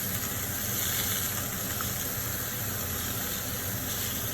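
Onions and other vegetables sizzle over lowered heat in a single pan beside seared spiced barramundi, a steady, close, even hiss with no pauses or voices.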